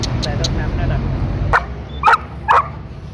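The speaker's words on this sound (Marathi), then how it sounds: "काकांना बघून भुंकतोय." A young dog on a road trip, stopped for a breakfast break, barks at a man. Three short, sharp yips come near the end, close by, after a low rumbling background.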